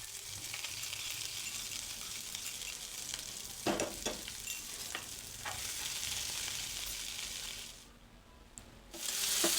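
Asafoetida and ginger-garlic paste frying in hot oil for Maharashtrian matki usal, a steady close sizzle with a few sharp crackles and spoon clinks, briefly fading before the frying noise rises again.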